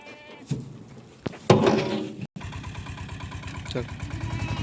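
Goats bleat nearby inside a vehicle at a goat sale, a couple of loud calls over the vehicle's rumbling engine idling in the background, with voices talking faintly at times.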